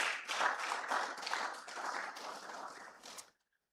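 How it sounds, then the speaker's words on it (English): An audience at an annual general meeting of private medical and dental practitioners applauds in a brief burst of moderate clapping that fades and stops after a few seconds. "Please, a round of applause for him."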